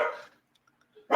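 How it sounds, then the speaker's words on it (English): Dog barking indoors at home, two sharp loud barks close by separated by about a second of near silence. "Sorry about the dog."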